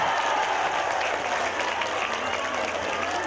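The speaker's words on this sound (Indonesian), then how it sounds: "Nah, ini cuma betul tepuk tangan aja" Audience applause at a religious lecture (tabligh akbar) in Taiwan, a loud, even wash of many clapping hands sustained throughout with no pauses.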